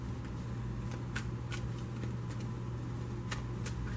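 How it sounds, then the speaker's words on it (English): Brief bursts of tarot card shuffling, a few soft riffling flicks spaced irregularly over a steady low hum, with no voices. "I'm only going to shuffle it for a moment"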